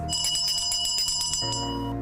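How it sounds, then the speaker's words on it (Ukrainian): A school bell rings in rapid repeated strikes for over a second, then gives way to a steadier tone, fairly faint. "А щойно пролунає дзвоник."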